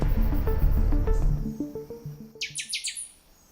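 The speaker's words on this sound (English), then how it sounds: "Birds." Wild birds chirping, a quick series of bright, close tweets that rise and fade in a rhythmic burst near the end, following a low musical tonal passage.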